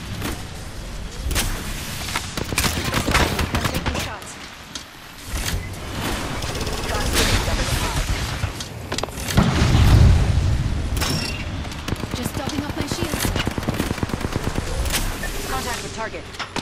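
Video game firefight with near-continuous rapid gunfire and heavy bursts, plus a deep boom around the middle, while a player talks over the shooting.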